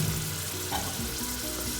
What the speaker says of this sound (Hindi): अब मैं इसमें डाल दूंगी प्याज और टमाटर जो मैंने ग्राइंड किया था। और प्याज और टमाटर का पेस्ट चला गया इसमें।